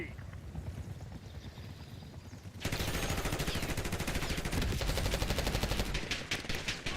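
Gunfire in the video game Call of Duty Black Ops 6, with steady quieter game audio at first, then a sudden dense burst of rapid shots that continues loudly to the end under an announcer voice.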